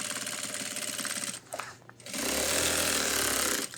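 A sewing machine stitching backpack fabric runs in a rapid rhythmic chatter, pauses briefly, then resumes at a faster, louder hum up close.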